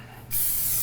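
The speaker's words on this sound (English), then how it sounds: "Cooking spray? yeah, a little quick dab." Cooking spray is applied to a baking pan in one short, loud hissing burst that starts abruptly and holds steady to the end.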